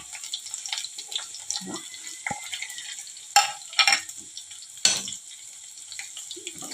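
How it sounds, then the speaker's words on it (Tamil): Onions and green chillies fry in oil in a pan for a fish curry, a steady soft sizzle with occasional stirring scrapes and clinks close by, no talking. "இது எல்லாமே நல்லா எண்ணெயில் இப்படி வதங்கிடணும்"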